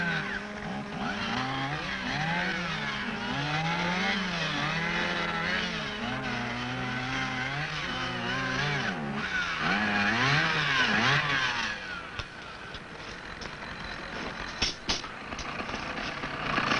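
Chainsaw felling a tree during forest thinning, a loud, close engine whine rising and falling as the saw bites into the main cut, continuous with shifting revs.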